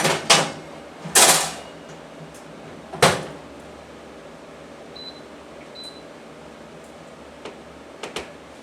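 A tray of bacon slid into a home oven brings a few sharp metallic clanks and knocks close by, then quiet with faint ticks and soft clicks toward the end.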